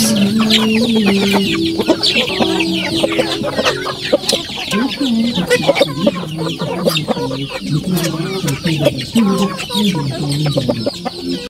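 Several chickens cluck steadily and close by, a busy overlapping chorus with a faint rooster crow in the background.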